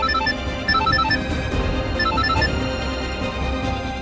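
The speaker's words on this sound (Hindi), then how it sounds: "किसका फोन है" A mobile phone rings with a repeating electronic melody of short bright tones, clear and close, over a low steady background bed with no speech.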